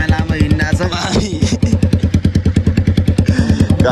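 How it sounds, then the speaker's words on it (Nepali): A motorcycle that keeps failing to start sputters and misfires in rapid, loud, close thumping pulses, with repeated attempts coming and going, and a voice is briefly heard near the start. "बाइक स्टार्ट भएन अघिदेखि यही झमेलामा हिँड्दा छ भाइ"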